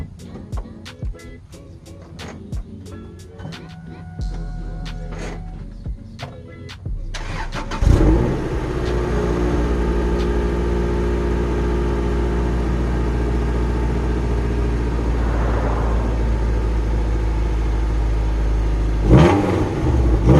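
A Honda Acura Integra GSR four-cylinder fitted with a stock muffler starts up and idles with a steady, loud exhaust drone, then a short rev climbs near the end; faint clicks and handling noises come before the start.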